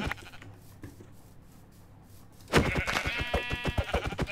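Goat bleats in the Minecraft video game, a burst of loud wavering cries after a quiet stretch, several calls in quick succession close up.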